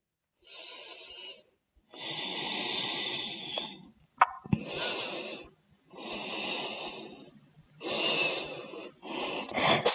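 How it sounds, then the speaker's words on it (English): Steady, audible breathing during a yoga flow: about five long breaths, each a broad airy rush of inhale or exhale separated by brief pauses, close and fairly quiet with no talk. "Regulate your breathing. Steady inhales and exhales."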